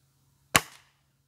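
A Rossi Dione 5G air rifle fires a single sharp crack over a chronograph, a loud close report with a brief fading tail, otherwise quiet apart from a low steady hum.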